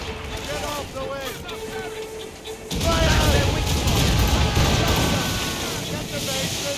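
Ship cannon fire in the Assassin's Creed Rogue video game, a sudden heavy volley bursting out over wind and sea noise into a sustained roaring rumble, with crew voices shouting throughout.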